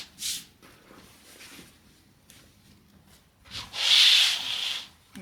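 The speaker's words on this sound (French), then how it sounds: "Vous allez venir replier votre tissu sur lui-même" Fabric for lining a basket is folded back over on itself, giving soft brushing rustles: a short swish at the start, faint rubbing through the middle, then a louder, longer rustle near the end.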